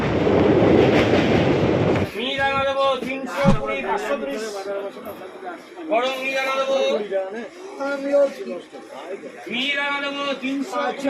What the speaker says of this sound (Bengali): ট্রেন হুইসেল দিয়ে দিয়েছে, ট্রেন ছেড়েও দিয়েছে